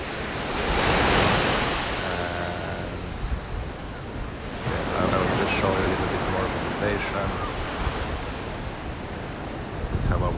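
Surf washing ashore on Nai Harn Beach in Phuket, Thailand, a steady broad roar of breaking waves with wind buffeting the microphone, surging louder near the start and again midway.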